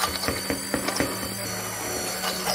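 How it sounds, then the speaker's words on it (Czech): A blender purees sweet potato in a tall container, giving a steady close mechanical whir with faint ratcheting clicks throughout. "Tady vidíte, jak už se pyré krásně vyhlazuje, což je výhoda samozřejmě mixéru."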